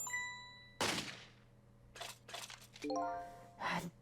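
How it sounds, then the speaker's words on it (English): A bell rings in the video game Ghost Trick: Phantom Detective, with sharp metallic strikes followed by bright ringing tones and bursts of impact sounds, moderately loud. "We ring the bell!"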